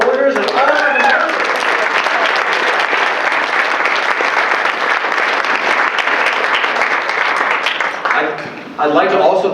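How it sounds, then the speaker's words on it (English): Sustained audience applause at a university business competition awards event honoring winners and competitors, a dense steady wash of clapping with voices and cheers mixed in, briefly dipping near the end. "one more round of applause for all of our winners and all of our competitors"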